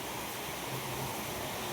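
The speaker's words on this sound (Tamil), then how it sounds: "செம மழை பெய்யுது" Heavy summer rain, driven by wind, pours down in a steady, dense hiss with no pauses.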